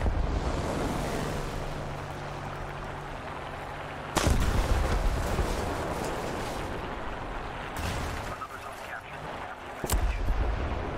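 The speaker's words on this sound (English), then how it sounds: "Just when my bomb was about to blow." Heavy booming blasts in the tank game War Thunder: a rumbling barrage of explosions and gunfire, with sharp loud impacts standing out against continuous battle noise.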